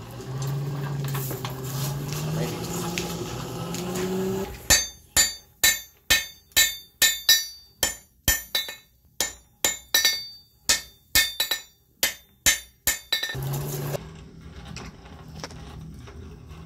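Hand hammer striking hot iron on an anvil for a forge weld on short strap hinges, about twenty loud ringing blows in a steady rhythm, framed by the roar of the forge.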